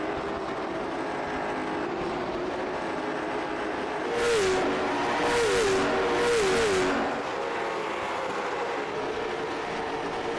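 Late model race cars in a racing game hum steadily around the track, with a few louder engine surges passing through the middle and a tire-squeal-like warble rising above the pack.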